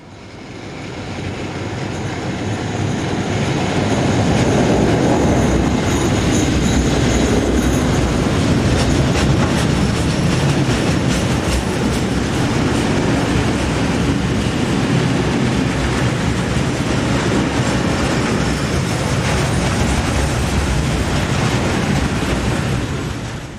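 A diesel-hauled freight train led by BB 66000 locomotives passes close by near Toulouse, with a loud sustained rumble, rolling wheel clatter and occasional squeal of wagons going by without pause.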